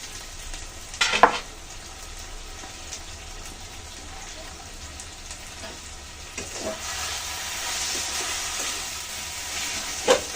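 Soft sizzle of kalai greens frying in a pan, with a few scraping stirs of a spoon against the metal and a low steady crackle throughout.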